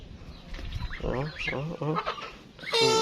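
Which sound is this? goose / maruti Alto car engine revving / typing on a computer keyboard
goose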